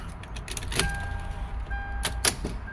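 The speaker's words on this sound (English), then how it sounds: "And then we're going to turn on the car." Keys jingle and click in the ignition of a 2005 Toyota Land Cruiser 100 Series as it is switched on, with a few brief electronic chimes and soft clunks in a quiet cabin.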